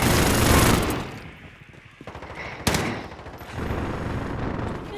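Loud burst of rapid automatic gunfire in a multiplayer shooter game, fading into quieter sporadic shots and one sharp close crack, then a steady rumble of distant fire.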